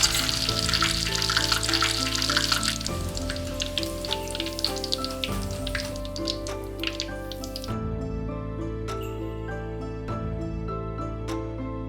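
Oyster mushrooms deep-fry in hot oil with a steady bubbling sizzle and scattered crackles and pops, over a constant tonal background.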